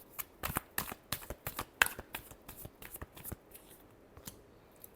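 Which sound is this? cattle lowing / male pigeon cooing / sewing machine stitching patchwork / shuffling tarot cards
shuffling tarot cards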